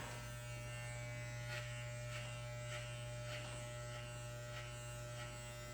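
Electric hair clippers fitted with a 3 guard buzz steadily at close range while cutting hair, a constant tonal hum with faint rhythmic pulses as the blade passes through, no talking.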